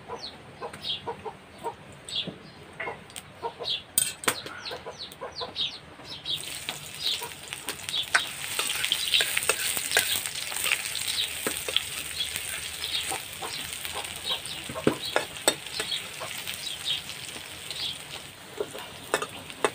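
Onion frying in a pan over a village cooking fire before potatoes go in, a steady crackling sizzle that swells after a few seconds, with intermittent scrapes and faint background chatter of birds.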